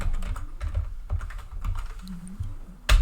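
Fingers tap out a password on a laptop keyboard, a quick uneven patter of close key clicks ending in a firmer final press.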